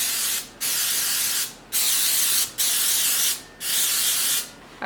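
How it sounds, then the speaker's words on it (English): Baking spray hisses from a can onto a muffin tin in four separate bursts of about a second each, with short gaps between them, close and loud. "I'm gonna spray my muffin tin with the baker's spray."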